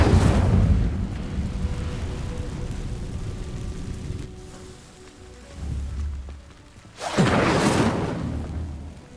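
An Incendio fire spell igniting dry vines in Hogwarts Legacy: a loud whooshing burst at the start, a quieter rushing crackle, then a second strong flaring whoosh later that fades out.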